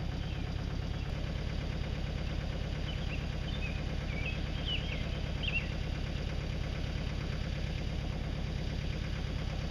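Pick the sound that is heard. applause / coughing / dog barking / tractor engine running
tractor engine running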